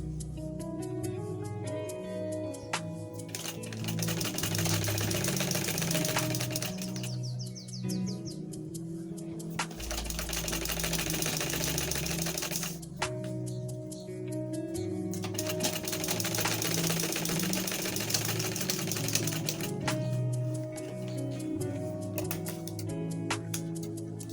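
A sewing machine stitching a double zip flap bag runs in long bursts of rapid mechanical clatter, pausing briefly between runs, with chirping birds in the background.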